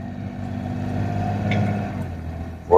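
A BMW E9X car engine pulls in third gear as a steady, moderate drone whose tone rises gently, heard from inside the cabin, with a sudden louder noise at the very end.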